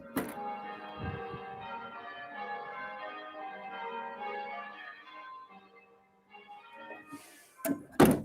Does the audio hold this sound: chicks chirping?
no